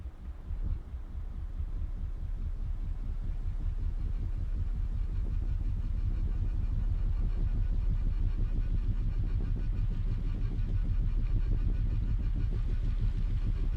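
A tow truck engine from the video game Scrap Mechanic drones steadily as the truck creeps slowly down the road in neutral, giving a continuous mid-pitched hum with no pauses.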